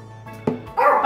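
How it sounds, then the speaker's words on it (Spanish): A small dog barking indoors, one sharp bark followed by a longer whining yelp, close and fairly loud with no talk over it. "Mirad, lo estoy oyendo ya, está ladrando"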